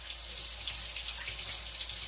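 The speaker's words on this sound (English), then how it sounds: "let me rinse my hands out." A kitchen faucet runs steadily while hands are rinsed under it, a continuous soft hiss of flowing water with no other sounds.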